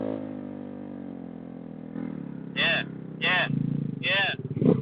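A motorcycle engine revs in repeated bursts while the rider lifts the front wheel into a wheelie, three or four sharp rising surges over a steady idle drone, close and loud, with people talking throughout.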